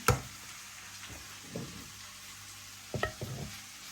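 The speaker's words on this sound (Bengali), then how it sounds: "আমি একটু ভাজা ভাজা করে রান্না করতে পছন্দ করি তাই মানে একটু ভাজা ভাজা করে নিব" Bottle gourd stir-fried in a pan, a quiet low sizzle broken by several soft scraping and knocking stirs, with louder clusters at the start and near the end.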